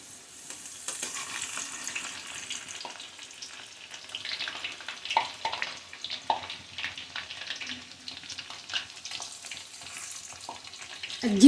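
Chakli dough frying in hot oil, a steady soft sizzle and bubbling that keeps going at close range, with occasional small pops and light kitchen handling sounds.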